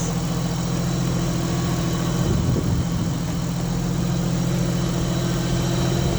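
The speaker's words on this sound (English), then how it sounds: "This is the car at idle." A Nissan Skyline R33 engine with a turbo idles steadily up close, a constant low humming rumble with no change in pace.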